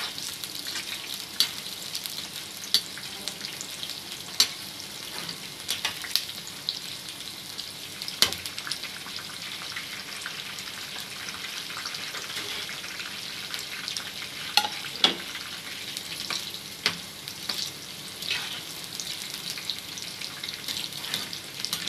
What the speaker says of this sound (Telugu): మీడియం ఫ్లేమ్లో పెట్టుకొని ఇలా వేపేసుకోవాలి బాగా